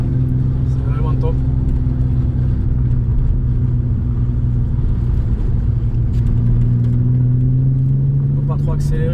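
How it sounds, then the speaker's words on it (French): An Alfa Romeo 147 GTA with an aftermarket exhaust line idles and rumbles steadily, its low engine drone echoing between buildings on a gravel path, with light revving and a voice talking over it. "Bien quand même le son avec cette ligne, ça résonne bien entre les bâtiments."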